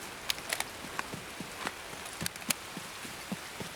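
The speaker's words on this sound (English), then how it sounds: "No, this actually sounds more like rain." Heavy rain in the video game Escape from Tarkov, a dense steady patter with scattered sharper drops and crackles that sizzle like frying bacon, loud and continuous with no talk.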